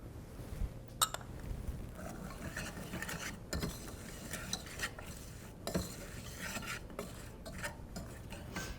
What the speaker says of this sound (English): Once our roux started to melt down, we'll add in our mirepoix.